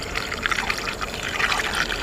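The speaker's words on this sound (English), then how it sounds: "Let's get them hooked up with some more water." Sugar water is poured out for honeybees at a backyard hive, a continuous splashing, trickling stream that holds steady for a couple of seconds with no voices.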